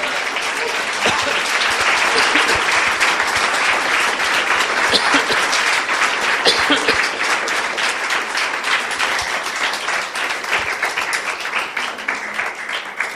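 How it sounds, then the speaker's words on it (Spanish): Loud, sustained applause from a large congregation at a church service, dense clapping that continues steadily throughout. "Si le vas a aplaudir al Señor, dáselo con todas tus fuerzas"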